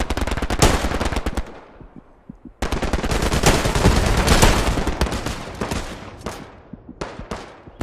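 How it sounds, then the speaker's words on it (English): Rapid automatic gunfire from enemies in the World War II shooter Hell Let Loose, loud bursts of machine-gun fire with a brief pause before another long volley, no talking. "That's him shooting."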